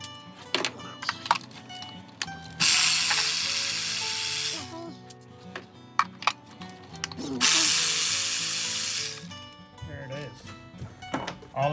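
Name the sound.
power tool removing spark plugs from a Honda Accord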